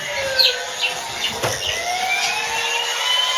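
A repaired toy ambulance plays its electronic siren, a continuous warbling wail with bright high tones and a few short chirps, close and loud with no talking.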